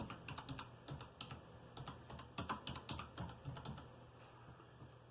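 Fingers type on a computer keyboard, producing quick, irregular clicks and tapping bursts at close range, fairly quiet and with no voices.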